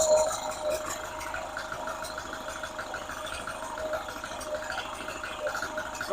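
An Onan generator engine on a GMC motorhome idles while its ignition points are adjusted, giving a fairly quiet, steady running note with a faint regular low thumping and a small rattle.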